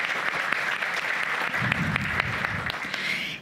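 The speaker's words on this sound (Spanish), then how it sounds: "Bienvenido, comisionado, un aplauso, por favor" Audience applause welcoming a public information access commissioner at an archives day panel; steady crowd clapping with a few sharper individual claps standing out, moderately loud and continuous, with a faint low murmur partway through.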